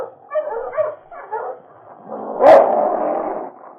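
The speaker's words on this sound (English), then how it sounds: "The dogs that pulled the outlaw's sled started barking as they neared the entrance of the cave, but King's menacing growl silenced them." Sled dogs bark as they near a cave entrance in the Yukon: a few short yaps, then a louder, drawn-out bark that trails into a whine, heard at moderate distance with no talking.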